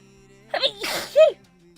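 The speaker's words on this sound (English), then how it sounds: "I'm going to sneeze." A single close sneeze bursts out after a brief sharp inhale, loud against an otherwise quiet room.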